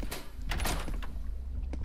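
A door opens in the Roblox horror game Doors, a short scrape and clunk rising over a steady rumbling game background, with no talking.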